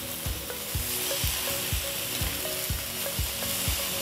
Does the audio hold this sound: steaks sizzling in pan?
yes